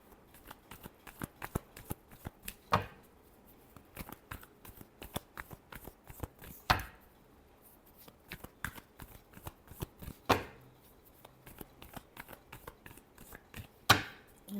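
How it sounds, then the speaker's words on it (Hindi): Tarot cards being shuffled by hand, a long run of rapid close riffling and slapping card sounds, with several louder bursts as the deck is bridged or cut. "Last shuffle."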